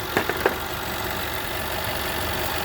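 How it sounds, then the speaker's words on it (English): A Jaguar 5.0 engine idles with its drive belt fitted, giving a steady close mechanical hum with a few sharp rattling knocks near the start before settling into an even running drone. "with the belt on, there's quite a bit of rattling going on"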